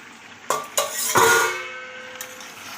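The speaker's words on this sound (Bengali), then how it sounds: "চলো ঢাকাটা একবার একবার খুলে দেখি" A metal pot lid is lifted off country chicken cooking on the stove, giving a couple of sharp clangs, then a short metallic clatter, with a soft sizzle behind.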